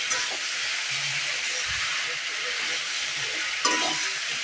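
Green beans frying in a pan, a soft, steady hissing sizzle with occasional faint stirring knocks and a small scrape near the end.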